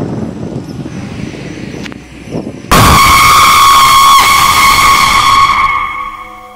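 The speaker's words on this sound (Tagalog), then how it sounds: "Yan o, may motor." A motorcycle passes on a dark road near Consuelo Park, its engine bursting in suddenly at close range with a loud, high whine that holds steady before fading.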